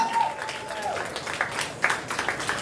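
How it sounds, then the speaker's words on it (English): Graduating seniors at a high school senior awards ceremony give a short, steady burst of applause in a large room, moderately loud with a few whoops and crowd murmur mixed in. "Give yourself a round of applause."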